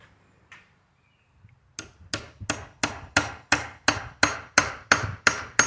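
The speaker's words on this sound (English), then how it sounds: "then what I'm going to do is take a hammer." Hammer tapping a screw extractor into a broken bolt stuck in an air tool adapter, about a dozen sharp metallic strikes in a steady rhythm, close and alone after a quiet start.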